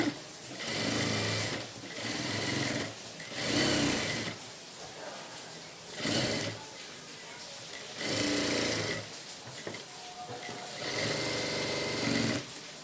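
Sewing machine running in bursts of stitching on a baby blouse seam, each run lasting one to two seconds with short pauses between, faint and steady with a whirring, rattling drone.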